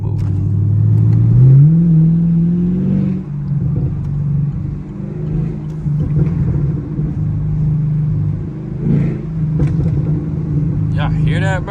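A Camaro SS pulls away with a deep engine rumble that rises as it accelerates, then settles into a steady road drone, with a voice talking over it.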